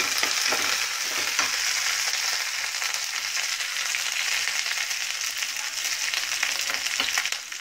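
Mustard seeds, onion and curry leaves fry in hot oil, giving a steady close sizzle with faint crackles and occasional stirring sounds, heard alone and gradually easing at the end.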